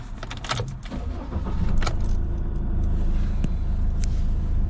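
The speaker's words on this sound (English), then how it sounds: "now I can turn the vehicle on as normal" A 2017 Iveco Daily van starts up after its immobiliser is disarmed, with a few clicks and rattles before a low engine rumble settles into a steady idle close by.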